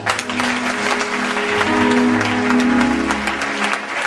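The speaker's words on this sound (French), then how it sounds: "Acclame Jésus." Church congregation applauding during a French-language sermon, a steady dense wash of clapping that holds at an even level throughout, with faint sustained tones beneath.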